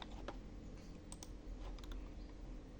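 A computer keyboard is tapped in quick soft keystrokes to enter a number, followed by a final key press, faint and close over a low background hum.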